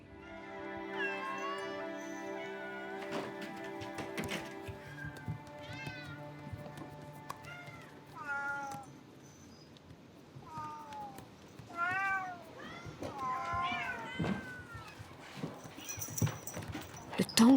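Kitten meowing repeatedly in a Tokyo cat cafe, several clear, rising and falling mews close by over a busy indoor background with other faint sounds.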